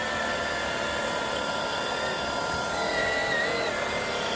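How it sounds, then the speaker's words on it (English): Jimmy JV51 cordless stick vacuum running steadily while sucking up a chunk of cat fur, a constant loud whirring motor drone with a high whine, no voices. "I'm gonna vacuum up that chunk that we pulled out."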